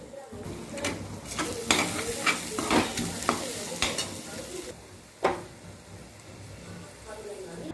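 A spatula stirs raw egg with ridge gourd and crushed fennel, pepper and cumin in a frying pan, giving repeated scraping and clattering strokes over a soft sizzle, with a louder clunk near the end.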